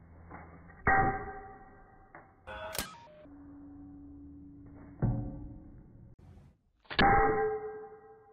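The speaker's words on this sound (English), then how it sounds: "Initially, it was doing the same thing as before, bouncing off the bottle." A glass breaker arrow shot from a PVC slingshot bow strikes a plastic soda bottle target. Four sharp, bright clangs are spaced a couple of seconds apart, and each leaves a short metallic ringing tail in an otherwise quiet space.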